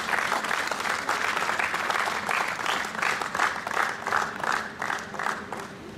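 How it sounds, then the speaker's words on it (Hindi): A crowd applauding steadily at a cricket tournament event, dense clapping that swells and dips slightly over several seconds. "तो ये इनके लिए बहुत सी तालियां"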